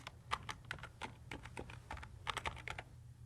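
Quick, light clicks of fingers typing a short word on a computer keyboard, a brief irregular burst of keystrokes heard close and fairly soft with no speech.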